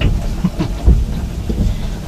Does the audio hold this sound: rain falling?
yes